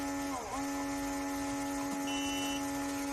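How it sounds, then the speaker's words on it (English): A pinball machine's scoring buzzer drones in a steady, loud electric buzz, with a brief mechanical rattle near the start and a higher tone joining briefly later. "ring up more points than the high score by activating the buzzer"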